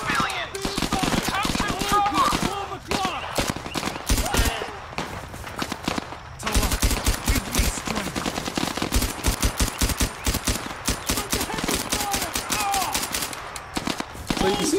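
Rapid gunfire in the VR shooter Zero Caliber, dense bursts of automatic shots and single cracks running almost nonstop, loud and close, with occasional voices underneath.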